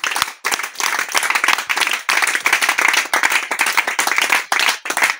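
A church congregation in Garoua, Cameroon claps in steady rhythmic unison to acclaim the Lord, sharp, loud and close, the beat continuing throughout with no speech.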